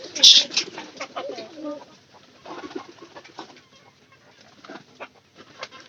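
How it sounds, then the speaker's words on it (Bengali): Pigeons coo close by in soft, throaty bursts at irregular intervals, with brief rustling and quieter gaps between the calls. "আমার এই পায়রাটা কিন্তু দেখতে দেখতে মানে ভালোই বড় গেছে"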